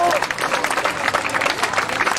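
A crowd at an outdoor track meet applauds a sixteen-year-old pole vaulter who cleared 3.80 m for second place. Lively, dense clapping lasts about two seconds, close and fairly loud, with a voice briefly heard at the start.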